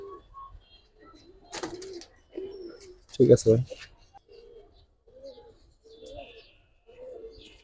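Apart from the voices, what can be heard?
Giribaz pigeons cooing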